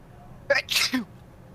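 A single close, sharp human sneeze: a quick catching inhale bursting into a loud explosive release, with quiet room tone before and after.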